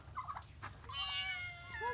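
Farm cats meow in short, wavering calls, one brief cry followed by a longer, louder meow near the end, heard fairly close against a quiet background hum.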